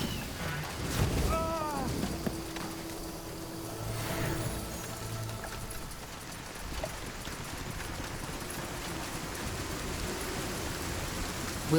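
Steady storm rain in SpellForce 3 hisses as a dense, even wash of noise throughout, with voice-like tones briefly rising over it near the start.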